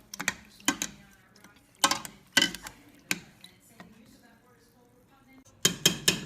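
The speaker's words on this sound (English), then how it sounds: "you can squish these strawberries up with a potato masher" A potato masher squishing strawberries in a metal pot gives sharp clinks and knocks in irregular bursts, close and distinct, with quieter pauses between strikes.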